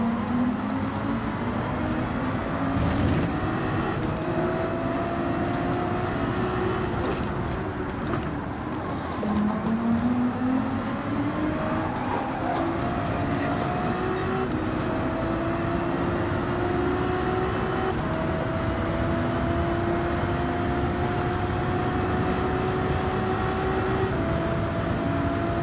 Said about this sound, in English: just try and keep up with the Corvette and the Viper in the Ferrari